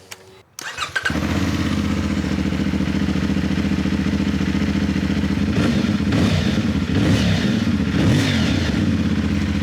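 A CFMOTO Ibex 450 motorcycle with a Yoshimura slip-on exhaust cranks briefly on a cold start, then fires up and settles into a loud, steady idle with a deep, choppy exhaust note and occasional blips of throttle.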